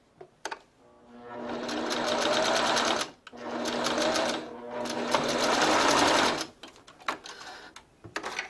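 Sewing machine stitching and back stitching the end of a tube scarf, loud rapid mechanical whirring in two long close bursts separated by a brief pause, with clicks and handling noise before and after.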